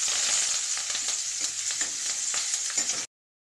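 Onions sizzling in hot oil with urad dal and mustard seeds, a dense, steady hiss of frying close up, with no speech, ending abruptly.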